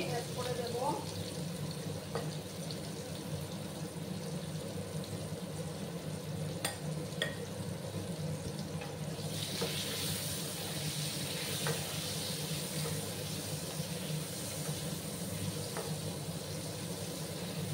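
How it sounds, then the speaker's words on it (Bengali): Potato pieces frying in a pan with a little salt, a steady soft sizzle running throughout with occasional stirring clinks, moderately close and continuous. "প্রথমে আলুগুলোকে একটু ভেজে নেব।"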